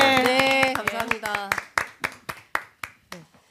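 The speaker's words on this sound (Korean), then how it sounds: "박수 한번 해드리죠" Clapping for a departing lawmaker on a live election-night broadcast, a few hands applauding near the mic at first under spoken voices, then thinning to a slow scatter of separate, fading claps.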